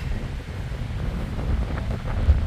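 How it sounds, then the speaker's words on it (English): Steady wind buffets the microphone with a low rumbling roar, outdoors at Pyramid Island and Patricia Lake in Jasper, continuous, without any talking. "very windy, guys"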